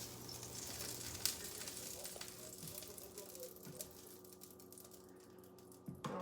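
Oyster mushrooms sizzle steadily in a hot pan with olive oil, a soft continuous crackle with a few clinks of utensils, close and fairly quiet.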